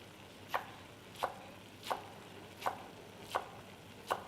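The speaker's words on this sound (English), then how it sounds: "Then you get a nice handful of a parsley, which I washed." A knife chops a handful of washed, de-stemmed parsley in six evenly spaced, crisp strokes, fairly quiet and close, with no speech.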